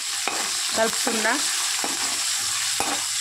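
A spoon stirs ginger-garlic paste, turmeric, onions and curry leaves in a frying pan, giving a soft continuous sizzle with scattered scraping clicks and a brief faint voice.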